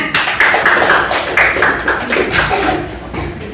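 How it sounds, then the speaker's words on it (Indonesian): Students clapping together in a classroom, loud close rhythmic claps in quick succession that keep a fairly regular beat throughout. "Oke, sekali lagi tepuk tangan."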